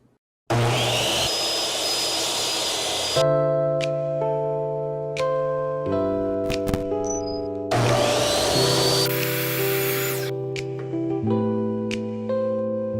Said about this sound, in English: Now since I have a miter saw, I'm just going to use that